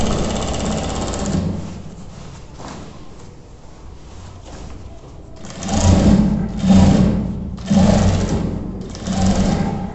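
Sewing machine stitching the gathered fabric of a pant, running in loud close bursts with short pauses between runs, motor whir and rapid needle chatter, no voice.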